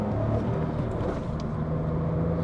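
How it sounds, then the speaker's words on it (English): Suzuki Fronx with a 1.0-litre BoosterJet engine and stock exhaust idling steadily, a close, even low rumble with no revving. "Even with a stock exhaust, with everything entirely stock, this car still sounds really nice."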